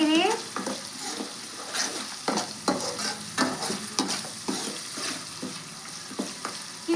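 Spicy fish masala frying in a pan, with a loud continuous sizzle broken by repeated rhythmic stirring and scraping strokes, close up.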